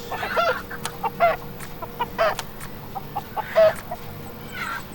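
Chickens cluck in Farm Manager 2018 in short separate bursts, several calls spread across a few seconds over a low, steady background.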